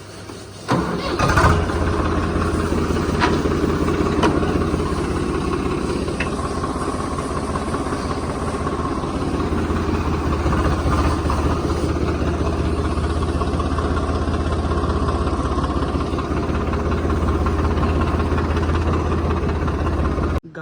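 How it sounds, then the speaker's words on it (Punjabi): A tractor engine starts up and then idles steadily with a loud, low diesel throb that continues unchanged for a long stretch. "ਟਰੈਕਟਰ ਆਪਾਂ ਧੋਤਾ ਹੁਣ ਬਾਹਰ ਕੱਢਣ ਲੱਗੇ ਆ"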